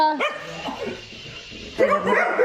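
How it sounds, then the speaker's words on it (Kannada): Village dogs in a Malenadu home bark and yelp close by in short bursts, one cluster at the start and another near the end, with a quieter whimpering stretch between. "ಹಳ್ಳಿಲಿ ನಾಯಿಗಳು ಆಗಲ್ಲ ಯಾರು ಬಂದರೂ ಹಿಂಗೆ ಕೂಗ್ತಾನೇ ಇರ್ತವೆ"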